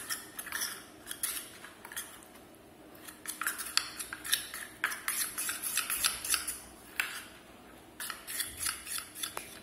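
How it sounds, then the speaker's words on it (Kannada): Homemade tan removal face pack being stirred in a bowl, heard as continuous close scraping and clinking of a spoon against the bowl in quick irregular strokes, with brief pauses between bursts. "ಈಗ ಇದನ್ನು ಚೆನ್ನಾಗಿ ಮಿಕ್ಸ್ ಮಾಡ್ಕೊಳ್ಳೋಣ."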